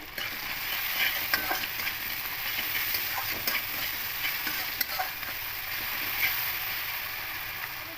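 Onions, with tomatoes and salt, frying in a pan for a rohu fish curry with vegetables, a steady close sizzle with scattered scraping clicks from stirring throughout.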